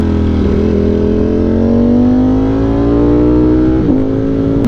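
A 2025 Ducati Panigale V4 engine drones loud and close while riding, its pitch climbing slowly as speed builds, with a brief dip and recovery near the end; no voices are heard.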